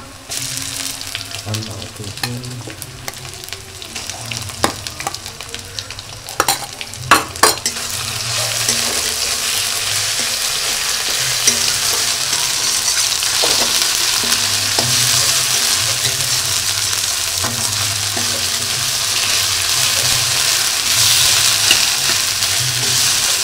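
Potatoes fry with salt and turmeric in a pan, a loud steady sizzle building over time, with scattered metallic stirring clinks early on.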